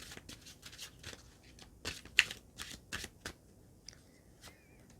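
Fairy oracle cards are shuffled by hand, a series of soft, papery riffles and flicks in irregular bursts, close and fairly quiet.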